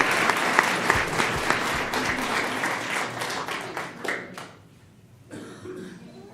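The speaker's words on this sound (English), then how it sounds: "A round of applause." Applause from the audience at a school district governing board meeting: a dense burst of clapping with a cough mixed in that fades out partway through, then a few scattered sounds after a short lull.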